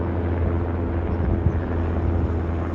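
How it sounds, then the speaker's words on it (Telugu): A police helicopter flying over the sea gives off a steady, distant low rumble that holds evenly from start to finish. "పోలీస్ ఇదిగో అక్కడ పోలీస్ హెలికాప్టర్ వెళ్తుంది"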